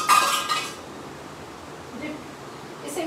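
Spoon scraping and clinking against a cooking pot while spices, coriander powder and garam masala, are mixed in, with a brisk stir at the start, quieter scrapes, then another short clink near the end.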